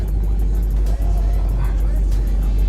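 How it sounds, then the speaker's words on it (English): A car engine rumbles steadily as the car backs up to move across a New York City street. A loud, constant low drone continues with a voice talking over it. "Let me move it to the other side of the street."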